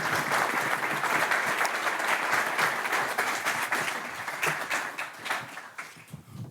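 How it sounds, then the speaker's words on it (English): A live studio audience claps to welcome a guest, a full burst of applause that thins and fades toward the end. "Everyone give Candy a nice round of applause so he feels nice and welcome"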